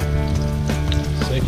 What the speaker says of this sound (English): One fillet to a nice warm oil.